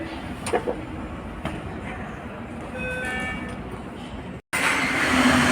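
An MP73 metro train rumbles steadily past at Quai de la Gare station on Paris Line 6, with a brief rising whine of motors and faint voices in the background before an abrupt cut.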